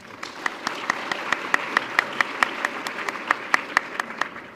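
Audience at a community foundation scholarship awards event applauds an absent scholarship recipient; sustained applause with sharp, evenly spaced individual claps ringing out close by.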